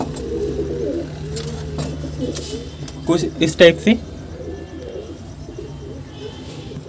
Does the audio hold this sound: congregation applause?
no